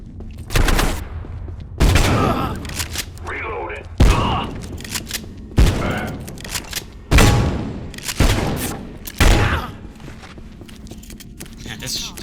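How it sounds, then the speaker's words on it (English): Heavy shotgun blasts in the video game Abiotic Factor, about eight loud booming shots spaced a second or two apart, each with a sharp crack and short rumbling tail, with footsteps and other game noise between them. "Walking into a bunch of shotgun blasts is healthy."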